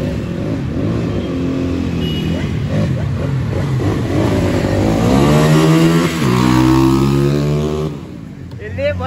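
A motorcycle engine revs loudly and steadily up and down in pitch, with people talking over it throughout.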